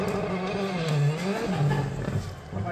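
A rally car revs hard and accelerates on a gravel road, its engine note rising and falling in steady pulls, fairly close and loud throughout.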